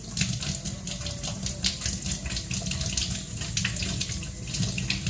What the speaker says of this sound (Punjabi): ਗਰਮ ਗਰਮ ਪਾਣੀ ਕੱਢ ਲਈਏ